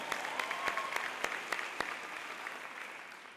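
A commencement audience applauds, distinct hand claps cutting through a broad wash of clapping that gradually thins and fades toward the end.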